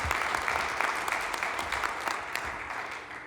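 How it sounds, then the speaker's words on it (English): An audience at a school athletic hall of fame induction ceremony gives a round of applause, a dense, even wash of clapping that holds for a few seconds and tapers slightly at the end. "Let's give him a round of applause."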